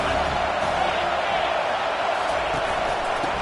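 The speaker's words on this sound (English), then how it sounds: "Decibels rising as the crowd gets behind this defense on 3rd down" A football stadium crowd on third down makes a dense, sustained roar that stays loud and even throughout, with no clear separate calls.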